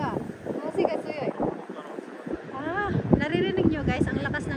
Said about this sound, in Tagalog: Naririnig nyo guys, ang lakas ng hangin.